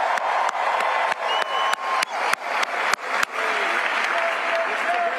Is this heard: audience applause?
yes